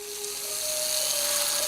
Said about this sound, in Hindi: 2 तरफ चलने वाली ड्रिल, इसे उल्टी तरफ चलाओ तो नंबर्स कम होते जाएंगे।